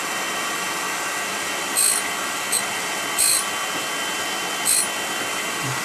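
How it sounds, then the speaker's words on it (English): A steady mechanical whir of a Clarkson drill grinding attachment runs throughout, with four brief, bright grinding bursts as a drill bit touches the wheel. "carry on like this until the drill is ground to your satisfaction"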